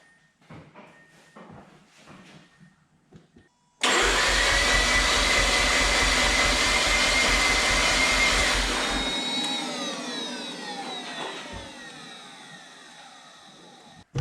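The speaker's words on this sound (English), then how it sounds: "Dare I crank it over?" Mazda RX-8 rotary engine cranked by the starter without firing, a steady loud mechanical whirring drone that starts abruptly after quiet shuffling noises and gradually fades and thins out over about ten seconds.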